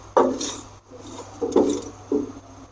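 Cumin, coriander and black pepper dry-roast in a pan, with several close metallic scrapes and clinks of a spoon stirring the whole spices in uneven bursts.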